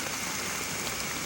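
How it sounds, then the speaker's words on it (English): Steady rain from a rainstorm pours down over farm crops in a dense, even hiss with no breaks, heard alone at a moderate distance. "Even during a rainstorm, you could almost see the crops grow."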